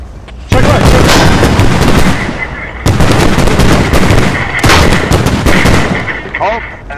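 Rockets slam into a BMD-4 light armored vehicle in the military shooter Squad, two loud, close, heavy blasts with sustained rumbling roar between them, no talk.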